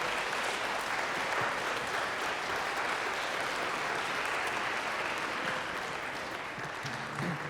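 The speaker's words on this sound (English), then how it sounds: "I want you all to give a big round of applause for TJ Stang." Concert audience applauding a teenage pianist at a classical concert for children, steady sustained clapping from a large crowd throughout, no talking.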